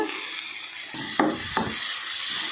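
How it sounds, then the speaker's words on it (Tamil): Onion and ripe tomato sauté and stir in a pan for a Tamil mutton leg gravy, with a steady sizzle broken by a couple of sharp scraping stirs. "இப்போ வெங்காயம் நல்லா வதங்கினதும் இதோடவே ஒரு பழுத்த தக்காளி ஆட் பண்ணிக்கலாம்"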